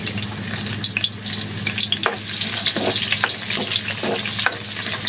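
Garlic, ginger and onion fry in hot oil in a pan for chicken adobo, a loud continuous crackling sizzle broken by several scraping stirs of a utensil, heard close with no talk.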